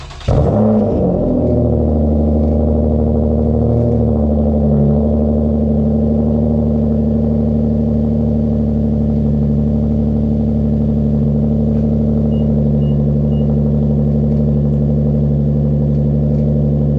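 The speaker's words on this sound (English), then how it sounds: "let me get you guys a cold start" A 7th-generation Nissan Maxima engine turns over on a cold start, catching with a brief high flare and then settling into a steady, loud, droning idle that holds without a break.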